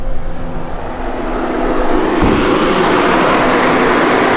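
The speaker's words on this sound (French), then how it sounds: "C'est le camion qui a chauffé, mais on est arrivé." An overheated van engine runs steadily up close, with a broad rushing, hissing roar that swells and holds.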